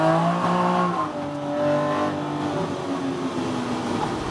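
A car lapping the Nurburgring on badly worn tyres, its engine note droning steadily up close with pitch falling and rising as it lifts and accelerates, broken by brief hints of tyre scrub.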